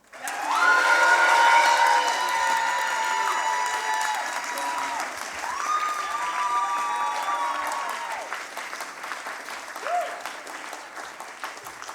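Audience applause for a science slam contestant, sustained loud clapping from a large crowd with scattered cheers and whistle-like tones, slowly fading and then swelling slightly near the end.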